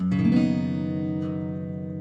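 A fingerstyle guitar chord played with a capo, struck once and left to ring out with sustained harmonics that slowly decay, close and alone.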